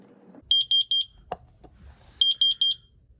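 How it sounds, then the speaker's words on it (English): An X-Sense water leak detector alarm chirps in two rapid bursts of four high-pitched beeps near a water heater, separated by a short knock and quiet room noise. "It actually cuts my video off whenever the alarm goes off"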